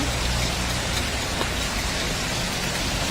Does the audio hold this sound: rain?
yes